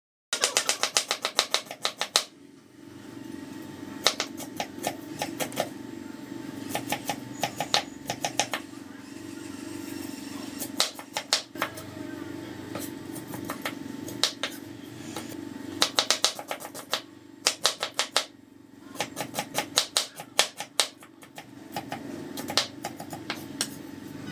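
Onions for oats dosa are finely chopped with bursts of rapid, quiet knife taps on a board, separated by short pauses, against a low background hum.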